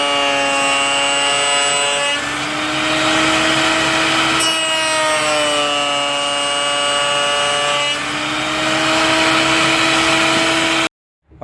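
Saw blade cutting through a wooden rail for a cabinet door, a loud steady whining drone with harmonic tones that dips and rises around the cut, running continuously before stopping abruptly near the end.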